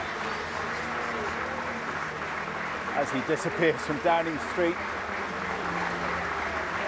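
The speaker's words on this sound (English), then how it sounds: "One last round of applause from the crowd here" Outdoor crowd on Downing Street applauding steadily as a departing prime minister leaves, a broad wash of clapping under a reporter's voice talking over it.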